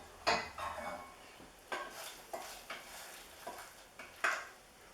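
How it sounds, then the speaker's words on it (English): Spiced pear sauce ladled over layered pork loin steaks in a pan, giving a few soft splashes and utensil clinks spread across several seconds, with a light sizzle underneath. "we're just going to ladle on some of that lovely sauce"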